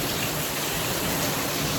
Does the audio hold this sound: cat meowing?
no